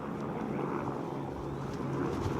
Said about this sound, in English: It's a helicopter going over the top.